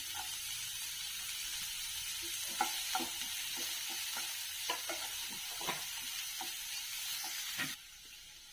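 Onion, ginger, garlic and cashews fry steadily in a pan, a continuous sizzle broken by scattered stirring scrapes and clicks, fairly close, with the hiss dropping away abruptly near the end.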